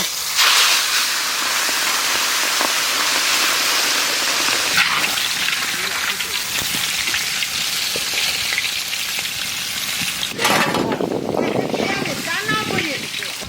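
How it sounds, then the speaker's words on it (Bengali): Fish fries in hot mustard oil with a loud, continuous close hiss and crackle, while voices talk over it throughout. "এখন আমি মাছ ভাজবো, তার জন্য সর্ষের তেল।"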